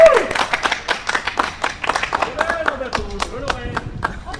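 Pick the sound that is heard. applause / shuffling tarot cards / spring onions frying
applause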